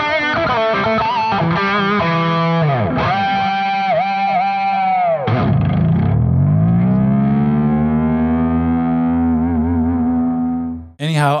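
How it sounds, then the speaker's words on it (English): An Ibanez electric guitar with distortion, played loud and alone: a run of sustained overdriven notes and bends, then a low heavy chord that rings out for several seconds before cutting off. "So I'm going to add some distortion now so you can hear the pickups that way."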